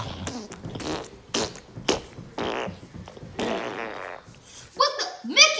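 Voices imitate fart noises, a string of blown, sputtering bursts of varying length spaced across several seconds, loud and close, with a voice and brief laughter around them.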